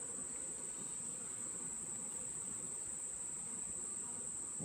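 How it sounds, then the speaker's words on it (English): A steady, continuous insect drone from bees at an open beehive during a honey-frame inspection, with an even high whine over a low buzzing bed, constant and moderately faint throughout. "Oh, I got a bee on my foot."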